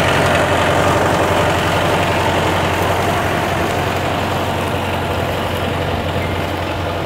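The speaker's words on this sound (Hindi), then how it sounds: "ट्रैक्टर भाई हमारा महिंद्रा 595 है" Mahindra 595 DI Turbo tractor engine running steadily at a loud, constant idle with a deep low rumble and broadband mechanical noise, no talking.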